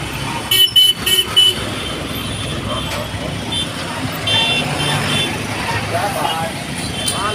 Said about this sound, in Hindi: एकदम ट्रैफिक से भरा पड़ा